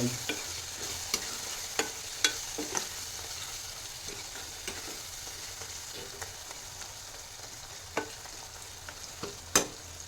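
Sev tamatar sabzi with turmeric, chilli and Kashmiri chilli powder being stirred in a frying pan: a soft, steady sizzle under repeated sharp taps and scrapes of the spoon against the pan, close by and without talk.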